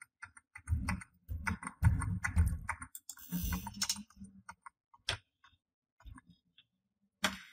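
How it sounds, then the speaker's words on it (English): Computer keyboard keys tapped in quick repeated bursts during a PC boot, close and fairly loud, with clicks bunching together before trailing off into a few isolated presses. "I'm gonna hit F2 keys a couple times"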